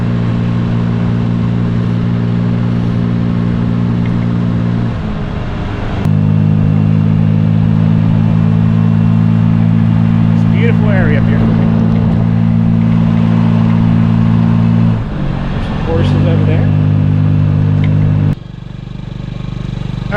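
Honda Ruckus scooter ridden on a road, its engine humming loud and steady with a strong low drone that dips briefly twice as the throttle eases, then rises again, ending in a sharp change near the end.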